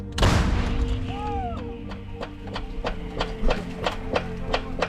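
A heavy artillery gun booms once near the start, followed by a string of sharp, regular clicks and mechanical clanks.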